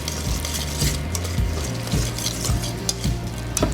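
Schmear for a smoked salmon flatbread pizza being mixed in a bowl, with rhythmic scraping and tapping strokes of a utensil, close and steady, under soft background music without talking.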